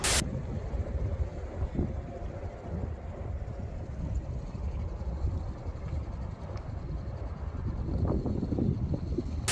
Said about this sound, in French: il y a masse de vent et en plus, il est contre moi